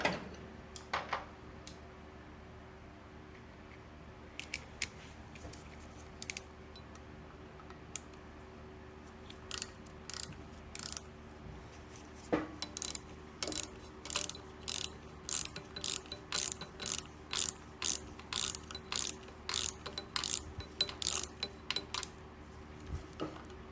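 A screw is worked loose on an old Minnesota L sewing machine, giving faint, sparse clicks early on that become a quick, regular series of sharp ratcheting ticks toward the end, close by with no talk.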